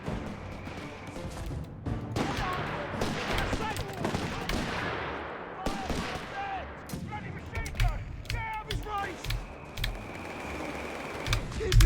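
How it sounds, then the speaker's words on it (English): Mortar shells and gunfire in a Company of Heroes 3 beach battle with tanks: repeated sharp impacts and bursts of fire over a dense, continuous combat din, with voices calling out in the mix. "That was a nice mortar hit there."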